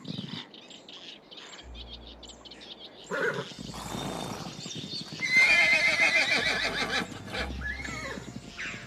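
Wild horses in a marshy river wetland with reeds: several loud whinnies and neighs ring out over hoofbeats, while birds chirp throughout.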